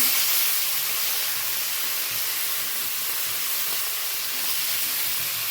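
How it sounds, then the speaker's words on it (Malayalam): A fish head fries in a small amount of oil in a pan, giving a steady, loud, close sizzling hiss that holds evenly throughout with no voices. "അടുപ്പയിലേക്ക് കുറച്ച് എണ്ണയൊക്കെ ഒഴിച്ചിട്ട് അമ്മയുടെ ഈ കാണുന്ന മീനിൻ്റെ തലയൊന്ന് ഫ്രൈ ചെയ്തെടുക്കാൻ പോവാണേ"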